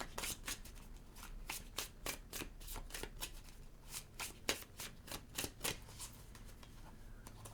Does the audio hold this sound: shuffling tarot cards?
yes